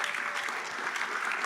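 Steady, dense applause from a conference audience at a main-stage tech event, continuous and even throughout with no voices above it.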